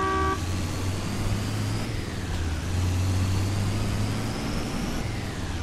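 A Winnebago in the video game Just Cause 2 drives along with a steady, droning engine hum that rises and settles, opening with a short horn toot.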